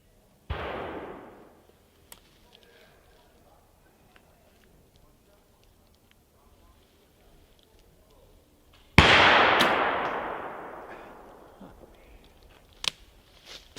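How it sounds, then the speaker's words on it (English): Two sharp black powder gun reports boom out at an outdoor shooting event, one near the start and a louder one later with a long rolling decay, a brief crack near the end, faint background between. "they're having a black powder shoot at the same time"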